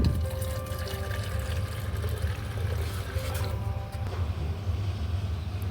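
Water pours and splashes steadily into a sprayer pump tank for several seconds, over a low mechanical rumble, with no voices.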